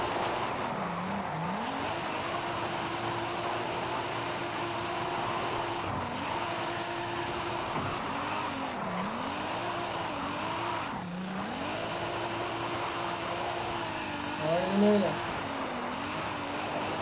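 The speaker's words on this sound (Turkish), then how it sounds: "Birazcık sizi arabanın sesiyle baş başa bırakmak isterim." A modified 2019 Nissan 370Z drifts in Forza Horizon 5, its engine steadily droning and repeatedly swooping up and down in revs for a long stretch, with a brief vocal sound near the end.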